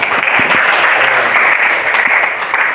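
A small group in a classroom teaching assessment session claps together, a loud, close patter of hand claps with some individual sharp claps standing out, continuous for a few seconds.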